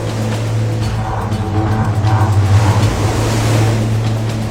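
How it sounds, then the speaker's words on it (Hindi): Ocean waves crash against rocks in a constant, loud roar of surf, with a windy rumble underneath and the sound swelling gently as the water surges. "लहरों का अक्सर एक नियमित पैटर्न होता है।"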